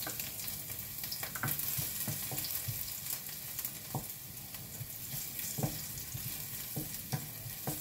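Garlic sizzling and frying in a pan, a steady crackling hiss with occasional pops and stirring scrapes, close and continuous.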